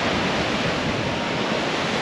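Steady roar of high-tide sea waves at Kihim beach near Alibag in the evening, with a cold wind buffeting the microphone. Continuous broadband rush with no distinct breaks and no voices.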